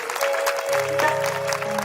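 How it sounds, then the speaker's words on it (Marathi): Audience applause greets a Mahant arriving at a devotional singing program, a dense, steady wash of many hands clapping at once that holds for a couple of seconds. "सर्वांनी जोरदार टाळ्या त्यांचं स्वागत करायला पाहिजे"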